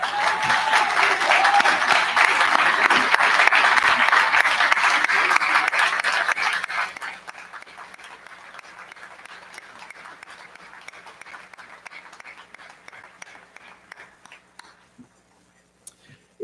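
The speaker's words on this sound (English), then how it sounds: "please stand to be recognized by a round of applause" Graduation crowd at Williamsville South High School applauding alumni, a steady wash of clapping that holds strong for several seconds, then thins into scattered, fading claps.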